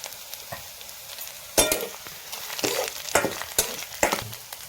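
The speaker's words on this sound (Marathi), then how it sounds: "आता आपण जिरं टाकून देऊयाचा" Cumin seeds sizzling in hot oil in a pan, a steady frying hiss with several bursts of louder crackling and stirring scrapes, close up with no talking.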